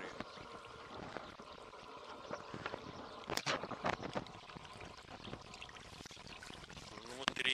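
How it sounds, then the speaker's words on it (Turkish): Sewage water gushes into a creek in a valley, a steady pouring rush with a few louder splashy surges midway, heard up close and continuous. "Buradan lağım fışkırıyor."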